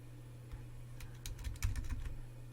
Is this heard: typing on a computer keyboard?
yes